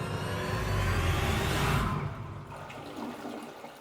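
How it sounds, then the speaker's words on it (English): A motel toilet flushes loudly, a broad rushing swirl that holds steady for about two seconds, then drains away into a quieter gurgling refill. "And then the final flush here."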